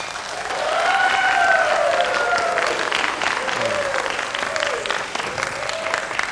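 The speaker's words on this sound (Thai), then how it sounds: "ช่วยปรบมือครับ" Studio audience applauding on a Thai political comedy stage show, a dense wash of clapping sustained for several seconds with voices and tonal sounds layered over it.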